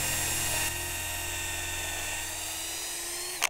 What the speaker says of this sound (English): We pre-drill the holes because they're very long bolts, just to help it get through.